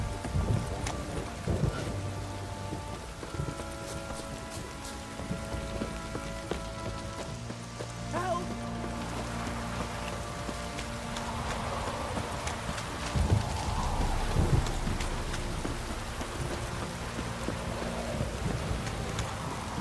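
Steady rain patters across the scene in The Witcher 3: Wild Hunt, with clopping hooves and low thunder rumbles mixed in beneath the continuous downpour.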